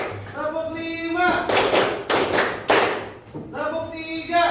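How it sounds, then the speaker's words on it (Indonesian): Three bursts of hand clapping in a steady rhythm in a classroom, loud and close, with a sung or spoken voice before and after. "Tepuk 5."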